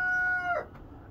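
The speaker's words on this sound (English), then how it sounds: "That's my Plymouth Rock rooster." A single Plymouth Rock rooster crow, loud and close, with the final drawn-out note trailing off into quiet.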